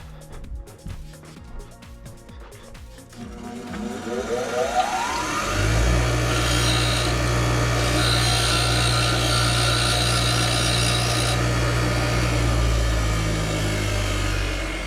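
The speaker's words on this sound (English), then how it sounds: "I'm gonna have to go over and grind that little lip off" A grinder cuts the lip off a valve from a Flathead V8 engine, a steady loud motor whine running continuously for several seconds after some lighter handling clatter at the start.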